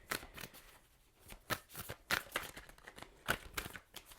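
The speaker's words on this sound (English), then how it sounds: "2 more shuffles" A deck of tarot cards is shuffled in short, crisp riffling bursts, with several distinct snaps spaced irregularly over quiet gaps.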